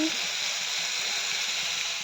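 Beans fry in a pan with a steady, even sizzle and hiss that carries on unbroken, close and moderately loud.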